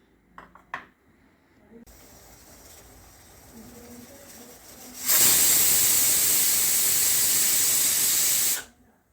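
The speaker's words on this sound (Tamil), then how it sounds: "ஒரு விசில் வந்துருச்சு" A pressure cooker cooking spinach mutton curry lets out a loud, sustained hissing whistle of steam after a few faint kitchen clinks, running several seconds before cutting off abruptly.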